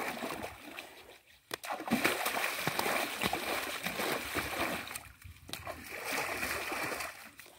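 Water splashes and sloshes continuously as a dog is bathed in the Chi River, with loud, irregular splashing nearby that dips briefly at two points.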